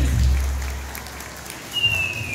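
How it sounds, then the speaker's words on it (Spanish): Wedding guests clap for the newlyweds, a brief steady burst of applause at moderate level that tapers off, with a faint whistle-like tone near the end. "¡Ese aplauso fuerte!"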